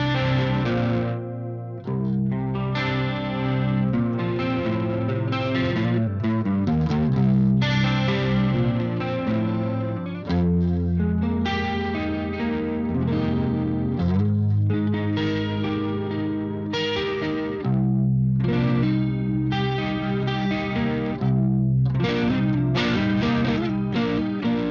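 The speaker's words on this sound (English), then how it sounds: "Let's add a bit of chorus." A 1984 Marshall JCM800 2203 guitar amp plays a continuous distorted electric guitar passage through the low input with a chorus effect added, giving a thick, shimmering, steady tone throughout.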